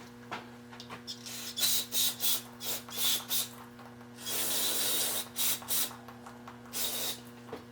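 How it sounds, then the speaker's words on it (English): Carburetor cleaner sprays onto a small steam engine part in a rapid run of short hissing bursts, then one longer blast and a final burst, close and clear over a low background hum. "Carburetor cleaner will cut it also, I think."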